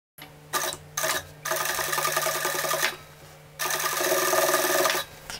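A sewing machine stitches along a polo shirt placket in two runs of steady, close rapid whirring with short pauses between, loud and alone.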